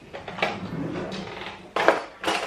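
Metal cutlery clinks and clatters as knives and spoons are sorted into a kitchen drawer organiser during decluttering, a few scattered bright jangles with sharper bursts near the end, close and fairly quiet.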